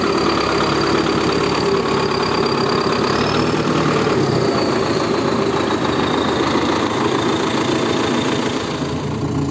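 A tractor engine runs steadily under hydraulic load while working in rain and mud, a continuous loud mechanical drone with a knocking, vibrating low end and no talk over it.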